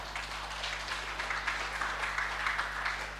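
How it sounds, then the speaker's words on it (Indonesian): An audience applauds at a madrasah digitalisation launch event, a fairly faint, steady patter of many hands clapping over a constant low electrical hum. "Tepuk tangan untuk MI Al-Falah 3 ini."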